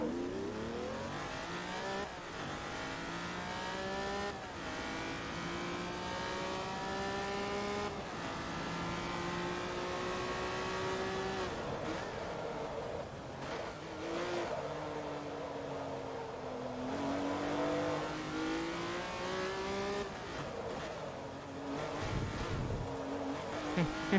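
Race car engines in Forza Motorsport 2 lapping the Mugello circuit. The loud, steady engine note rises repeatedly through the gears and drops at each shift, with occasional tire squeal, and no voices.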